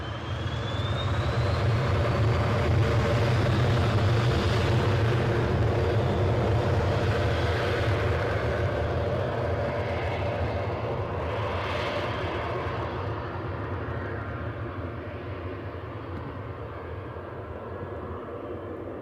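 A Corendon Airlines jet in FC Nürnberg livery takes off at Newcastle airport, its engines a loud, sustained roar that swells early on and then slowly fades as the aircraft climbs away.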